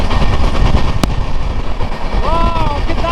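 The Madhumati Express rolls at speed, around a hundred kilometres an hour, in a loud continuous rumble and rattle of wheels and carriages, with one sharp bang early on and a horn-like tone near the end.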